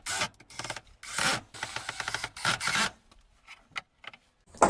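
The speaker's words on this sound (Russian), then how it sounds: "Сейчас мы вот так его прикрутим на саморезы." Self-tapping screws driven into a small wooden block, giving bursts of grinding, rasping rotation with short pauses between runs, close and fairly loud, followed by a few faint knocks.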